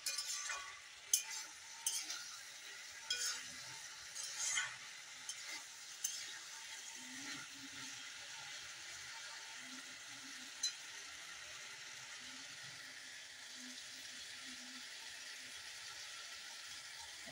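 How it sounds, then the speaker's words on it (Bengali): Bean and dried fish curry stirred and fried in a pan, with a soft steady sizzle under scattered spoon clinks and scraping stirs, loudest in the first few seconds. "এখন ভালো করে কষিয়ে আমি নিয়ে নিলাম।"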